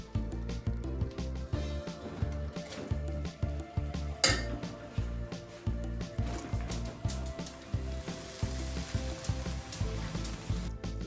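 Rice tipped into a pan of melted sugar and milk for Independence Day flag rice, sizzling steadily with repeated clinks and scrapes of a utensil against the pan, close and continuous.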